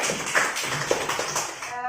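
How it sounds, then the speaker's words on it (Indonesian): A small audience claps in an indoor talk or class, a loose patter of scattered hand claps at modest volume, fading out toward the end. "Tepuk tangan dulu"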